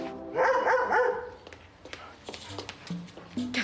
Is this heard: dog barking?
yes